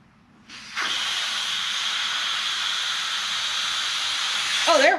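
Air rushes out of a balloon driving a small balloon-powered hovercraft in a classroom science experiment, a steady loud hiss that starts abruptly and runs unbroken for about four seconds before a voice briefly cuts in.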